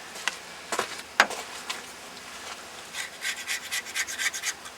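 A single-edge razor blade scrapes an old gasket off a truck thermostat housing, producing quiet, close scratchy strokes, a few sharp early scrapes followed by a faster run of short rasping passes.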